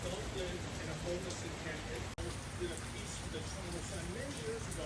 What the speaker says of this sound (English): It just keep raining and just stops every 10 minutes.